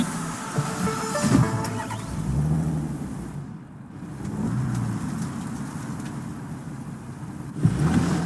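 A car engine from the video game Cyberpunk 2077, in the Badlands, runs and revs with a rising and falling drone and a brief surge near the end, heard alone without speech.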